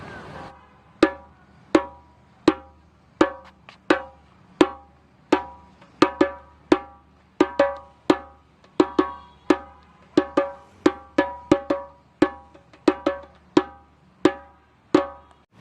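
Djembe tone strokes struck alone in a steady rhythm, each hit round and ringing, repeated about two dozen times.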